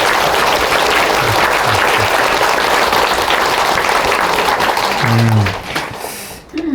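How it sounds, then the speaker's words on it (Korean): Loud, dense applause from an audience fills the hall continuously, then fades out near the end as a voice briefly comes in. "우리 질문자님께 우리 큰 박수 한번"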